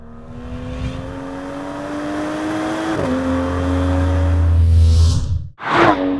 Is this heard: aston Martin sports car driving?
yes